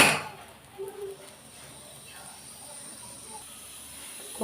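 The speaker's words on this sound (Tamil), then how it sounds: "குக்கர் ஒரு சத்தம் வந்துடுச்சு." A home kitchen pressure cooker vents steam, heard as a faint, steady high hiss that runs on without a break at low volume.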